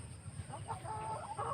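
Rhode Island chickens cluck softly and continuously at close range, several birds murmuring over a faint steady background hum.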